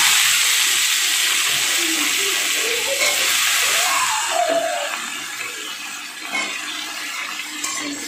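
Chopped papaya tipped into hot oil tempered with cumin, giving a loud, steady sizzling hiss that fills the whole stretch and eases slightly toward the end, with no talk.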